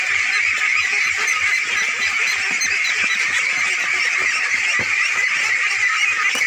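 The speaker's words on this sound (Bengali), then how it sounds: "এই দেখতে পাচ্ছেন হাঁসের খাবার কীভাবে সুন্দরভাবে খাচ্ছে" Farm ducks on a village pond in Bangladesh, fed together in a flock, give a steady chorus of loud, overlapping honking calls that run without a break.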